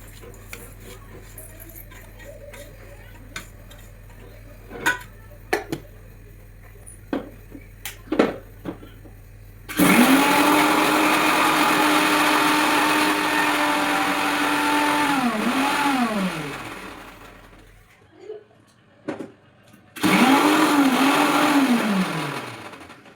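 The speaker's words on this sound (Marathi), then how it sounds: "मिरची, लसूण, ओवा, जिरं, मीठ एकत्र करून सर्व मिक्सरवरती बारीक करून घेणार आहोत" A kitchen mixer grinder whirs loud and steady for several seconds, grinding green chilli, garlic, ajwain, cumin and salt, then slows to a stop; it runs again in a second burst, with light clinks and taps between the runs.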